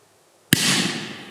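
A single sharp bang from a Tomaszek TP2 firecracker, loud and close, followed by a second of crackling, hissing decay.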